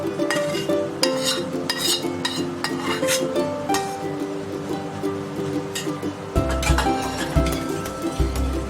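A spoon stirs agar-agar (China grass) into flavored milk for an eggless nutty khoya pudding, giving repeated clinks and scrapes against a metal pot in an uneven rhythm, close and fairly loud, with faint talk at times.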